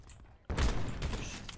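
Sniper rifle fire in a PC or PS4 first-person shooter: one sharp, loud shot bursts in after a quieter lead-in, followed by a sustained burst of game noise and rumble.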